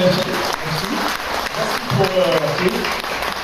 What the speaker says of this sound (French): on va vous applaudir bien fort